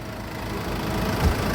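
A used car, a roughly 2009 model, runs in an outdoor yard with a steady, rough engine rumble, close and continuous, growing slightly louder toward the end with no voices.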